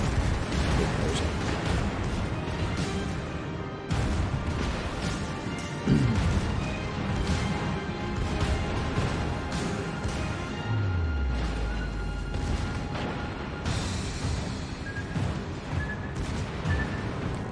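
Battleship guns fire in World of Warships, from a South Carolina battleship, with heavy booming salvos and crashing impacts repeating over a dense, roaring battle background, loud throughout with a voice talking over it.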